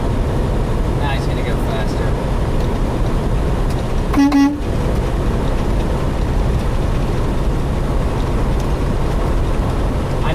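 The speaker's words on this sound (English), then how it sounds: "He heard me honk the air horn." A truck air horn gives one short, loud honk over the steady roar of highway traffic and engine noise on the road from Phoenix to Nogales, while someone talks.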